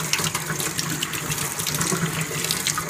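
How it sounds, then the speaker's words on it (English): Cool tap water runs steadily through a homemade fish tank filter, rinsing loose carbon, a continuous loud splashing gush with no talking. "just running some cool water"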